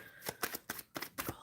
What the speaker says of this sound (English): Shuffling for Carla.